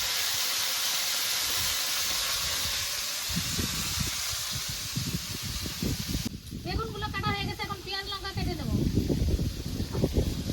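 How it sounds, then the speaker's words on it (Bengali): Steady, loud hissing and spitting of small mixed river fish frying in hot oil, continuing under a person talking in the second half. "মাছগুলো ভাজা হতে থাকবে"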